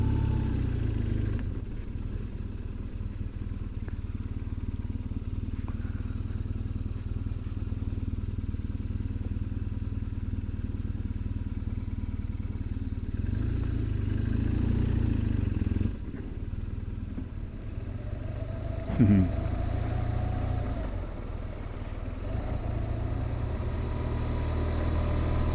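A motorcycle rides along a road on a Scottish island, its engine giving a steady, close, continuous drone with slight changes in pitch and no voices.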